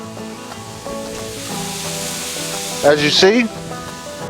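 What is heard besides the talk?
sausage pieces sizzling on a griddle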